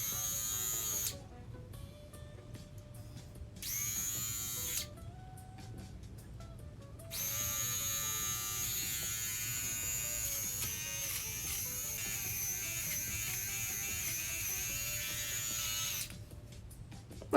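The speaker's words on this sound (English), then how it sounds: "Okay, I have this little thing. This is like a facial hair remover." A small electric facial hair remover buzzes close up as eyebrow hairs are shaved, a steady high-pitched motor whine that switches on and off several times before running continuously for about nine seconds.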